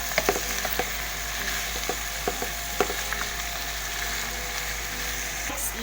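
Coconut heart filling being stirred in a hot pan, a steady soft sizzle broken by sharp irregular spatula clinks and scrapes, close and moderately quiet.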